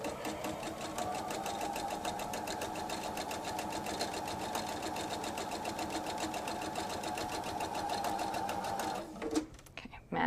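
Sewing machine stitching seams on a fabric two-bottle wine tote, a steady fast mechanical whirr running for several seconds and stopping near the end, with quiet handling noise after.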